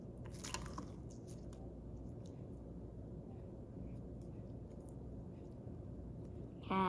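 Slime made of three slimes mixed together is squished by hand in soft, faint, wet squelches and sticky clicks, steady throughout, with a louder burst right at the end.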